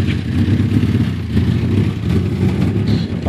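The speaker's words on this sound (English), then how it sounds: "I got the Alfa running, and it's idling a little bit better." A 1984 Alfa Romeo Spider Veloce engine idling with a suspected fuel pump fault, a steady close low rumble with faint clatter running unbroken throughout, no voices.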